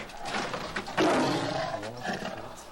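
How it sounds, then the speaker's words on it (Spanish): A large male tiger gives a deep, rumbling roar in captivity. The roar swells sharply about a second in and carries on as a rough, throaty growl through the clip. No one speaks. "Es un tigre macho grande."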